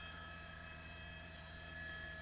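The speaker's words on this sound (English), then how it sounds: "I'm sure the helicopter is still here. It was the California Highway Patrol. It's orbiting." A California Highway Patrol helicopter circles overhead during a police pursuit, heard as a steady, distant drone with a faint, even rotor hum that does not let up.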